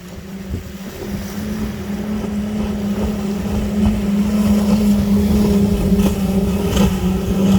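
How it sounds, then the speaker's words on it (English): A motorboat with five outboard engines drones and grows steadily louder as it approaches, with wind buffeting the microphone and water rushing underneath. "Oh, we got a boat coming."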